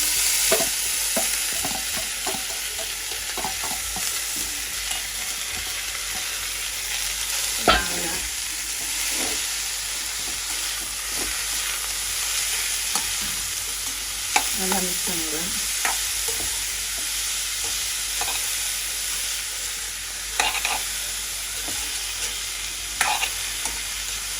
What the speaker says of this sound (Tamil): வெங்காயம் நல்லா வதங்கிட்டு நாங்கள் வந்து புடலங்காய் வந்து போடுவோம்